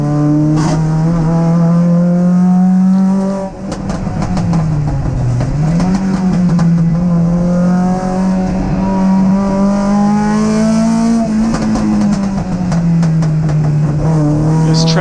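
Triumph TR7 and other race cars at a Sandown State Race, engines droning loud and close with a steady pitch that dips and climbs as drivers lift and accelerate through the turns, with no voices.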